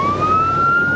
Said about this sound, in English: he can listen for the sirens of other emergency apparatus